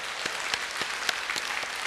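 A church congregation claps in praise, a brief, dense patter of many hands with a few sharper individual claps standing out, heard at a moderate distance with no talking.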